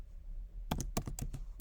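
Several quick keystrokes on a computer keyboard while code is being typed, a short burst of close, crisp clicks after a quiet pause.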